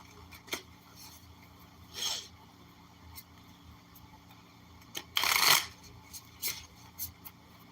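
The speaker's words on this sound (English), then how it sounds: "Let's keep shuffling this up." Tarot cards are being shuffled during a zodiac reading, heard as scattered close riffles and scraping slides, with one louder, longer shuffle burst midway, over a faint background hum.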